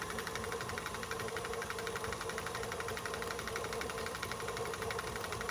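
Electric hand mixer on high speed creaming softened cream cheese and butter, a steady, loud motor whir with a continuous buzzing vibration that holds unchanged throughout, no voices.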